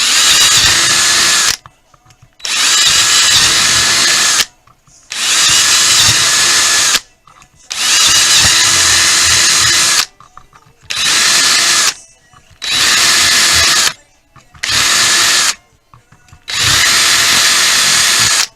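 A power drill drilling into a Kydex holster whirs loudly in repeated bursts, about eight runs of one to two seconds each, separated by brief pauses.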